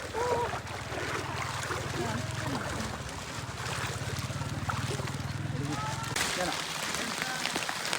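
Steady rain patters and hisses across a surface for the whole stretch, with a low engine-like drone beneath and occasional voices mixed in.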